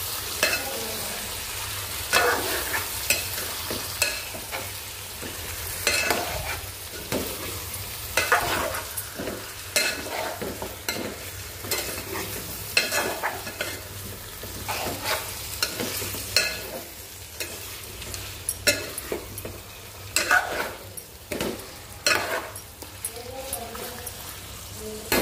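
Chicken sizzles steadily in a hot pan as a spoon stirs and scrapes through it in repeated strokes, close and continuous, while a person talks throughout.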